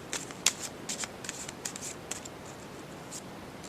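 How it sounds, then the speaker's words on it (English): Oracle cards from an Archangel Michael deck being handled and drawn: a quiet run of light papery flicks and soft snaps, irregular and close, with no voices. "I'm just going to quickly pick an Archangel Michael card"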